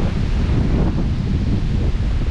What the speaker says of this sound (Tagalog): Hindi ko po alam kung bakit ganito kalakas ang hangin.